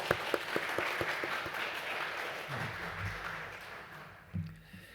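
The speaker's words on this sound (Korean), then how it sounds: "우리 하나님께 한번 영광의 박수 올릴까요?" A church congregation claps steadily for several seconds during a worship service, a warm wash of applause that tapers off near the end.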